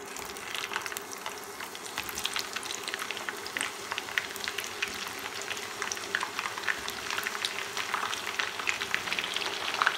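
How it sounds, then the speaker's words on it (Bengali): Whole spices, including three dried red chillies, frying and stirred in hot oil for an instant raw mango pickle, giving a steady crackling sizzle with dense fine pops throughout, close and alone without talk. "এখন নেড়ে মশলাগুলো ভেজে নিব"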